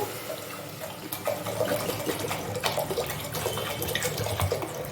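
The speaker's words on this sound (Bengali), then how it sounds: "কুকারের মধ্যে আমি জল দিয়ে দেবো" Water pours steadily into a pressure cooker for dal, a continuous close splashing rush over a few seconds with no voices.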